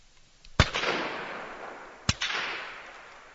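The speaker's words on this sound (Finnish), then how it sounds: "Siitä lähti ensimmäinen laukaus näissä kotiesikisoissa." Two sharp rifle shots crack at a Finnish moose-target shooting competition, spaced about a second and a half apart, each loud and close with a long rolling echo trailing away outdoors.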